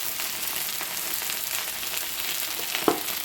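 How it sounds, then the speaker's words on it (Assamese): Vegetables frying dry in oil with turmeric and chili powder, giving a steady, moderately loud sizzle with a brief sharper crackle near the end. "সেইখিনি অকণমান শুকান ফ্ৰাই কৰি পেলাই তুলি থৈ দিম।"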